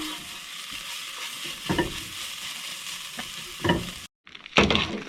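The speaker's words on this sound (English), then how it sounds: "Just let that fry off and release all those tasty flavours for a couple of minutes." Spices and garlic paste frying in a pan at an outdoor camp kitchen, a steady close sizzle broken by a few louder stirring scrapes and a brief pause near the end.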